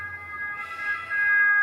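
An ambulance siren sounds outside, holding a steady tone that swells louder as it passes, over low traffic rumble.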